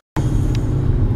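A car driving on a road, a sudden low rumbling engine and road drone that starts after a brief silence and continues steadily, with no talk.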